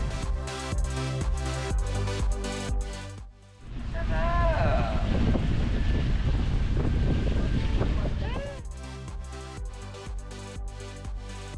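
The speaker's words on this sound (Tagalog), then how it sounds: "Mag-cruise with a view, sakay ng makasaysayang junk boat." A historic junk boat cruising on the water in Sai Kung, Hong Kong, with a steady broadband rush of wind and water noise against the microphone, framed by music before and after.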